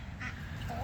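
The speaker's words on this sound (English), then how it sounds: "Duck, duck." A duck on a farm quacks and honks in a brief, faint call against steady low outdoor background noise.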